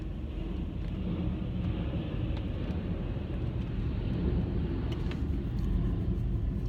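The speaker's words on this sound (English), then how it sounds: "There's a plane going by." An airplane passes overhead as a steady low roaring rumble, moderately loud and continuous, with no voices over it.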